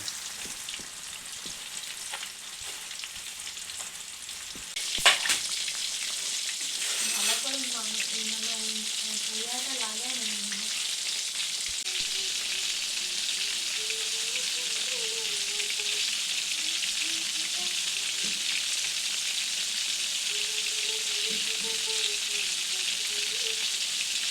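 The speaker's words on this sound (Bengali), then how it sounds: "দিয়ে এগুলো লাল লাল করে ভেজে নিচ্ছি" Chicken popcorn pieces deep frying in hot oil, a steady bright crackling sizzle that runs continuously, with a brief knock partway through and faint voices in the background.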